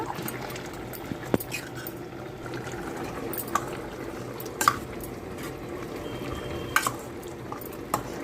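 Boiled mango paste goes into a pot of cooking raw mango curry, giving faint, steady stirring and soft liquid bubbling with a few sharp clinks of a spoon against the pot.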